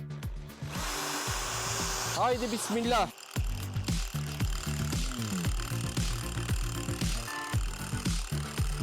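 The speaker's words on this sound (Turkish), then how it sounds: "Bu böyle dönerken canavarla zımpara alacağım bunu." An angle grinder whines continuously as it sands a spinning metal screw, grinding and rasping with shifting pitch, while someone speaks briefly nearby.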